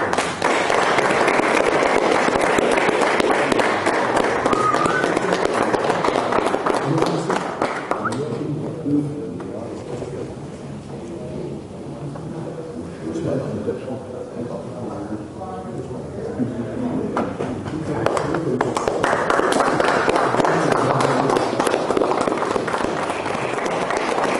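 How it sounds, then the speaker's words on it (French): Audience applause at a Brazilian jiu-jitsu grading ceremony at Maccabi Nice, with sustained dense clapping from a crowd, easing midway under some talk, then swelling loud again toward the end. "je voudrais qu'on applaudisse Pascal"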